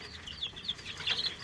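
Rhode Island and White Leghorn chickens clucking in a mixed flock, with several soft, quick calls overlapping at moderate distance and a brief busier flurry toward the end.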